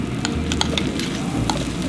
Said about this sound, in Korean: 잘게 다진 소고기에 기름진 부위를 생고기 상태로 올려서 뜨거운 돌솥에서 바로 비벼주는 방식이었고요